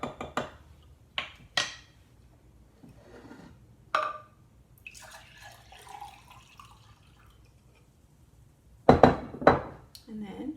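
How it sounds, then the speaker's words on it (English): Switchel drink being stirred in a glass, with sharp spoon clinks against the glass scattered through the clip, a soft watery swirl in the middle and a louder flurry of clinks near the end. "So give it a little stir."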